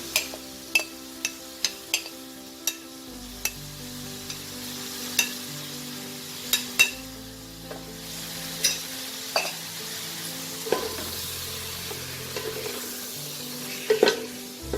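Marinated soya chunks sizzle softly in a frying pan while a utensil scrapes and clinks against it in repeated stirring strokes, close and fairly quiet throughout.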